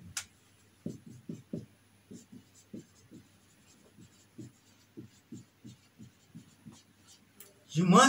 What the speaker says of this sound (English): Let me write something here.